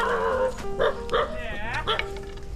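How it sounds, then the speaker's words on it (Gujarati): Village dogs bark close by in a rural yard with tied cattle, giving a run of loud, repeated barks and yips with short gaps between them. "કૂતરા ભસે છે મને જોઈને"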